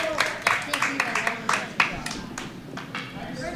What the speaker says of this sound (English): Applause from the warm room.